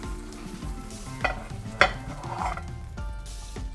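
Oil in a pan just after frying sunny side up eggs keeps up a steady close sizzle, with a few sharp pops and crackles standing out over low background music.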